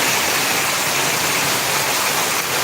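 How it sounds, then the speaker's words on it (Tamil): Heavy rain pours down in strong wind, a dense, even hiss of broadband noise that stays loud and constant throughout with no voices. "சம காற்று சம மழைன்பா"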